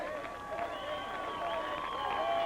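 A crowd at an airport welcome for Mr. Casey cheers and applauds, a moderately distant rumble of clapping and voices building slightly, with voices heard amid the noise.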